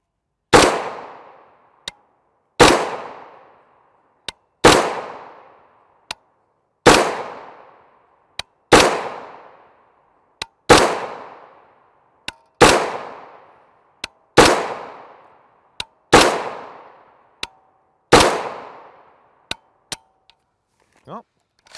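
An AR-15 rifle fires 5.56x45mm 62gr FMJ M855 rounds from ADI, eleven sharp, loud reports spaced about two seconds apart with short echoing decays, outdoors.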